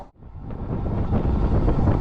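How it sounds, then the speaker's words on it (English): Gusty wind buffets the microphone in a low, rumbling roar that builds after a brief lull and stays loud throughout. "A little windy up here."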